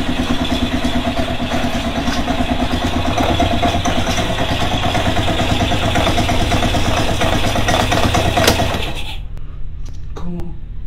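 A grey motorcycle's engine idles with a close, even, throbbing drone that holds steady and then cuts off shortly before the end, leaving near silence.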